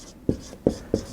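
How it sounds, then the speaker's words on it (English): Pen strokes on paper while writing a note down by hand, three quick short scratches evenly spaced, close and fairly faint in a quiet room with no talk. "Let me write that down right quick."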